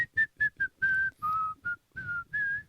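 Someone whistles a short melodic tune alone, a run of clear separate notes, some clipped and some held, close and fairly loud.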